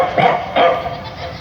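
A man imitates a dog barking on stage with two short, close, loud woofs in quick succession, then a faint trailing yip.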